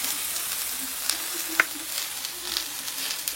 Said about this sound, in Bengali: এই সবজিটা নেড়ে চেড়ে ভালো করে শুধু ভেজে নেবো